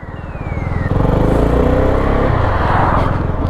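A motorcycle engine revs hard close by, its loud rising roar holding high before easing slightly, with no voices over it.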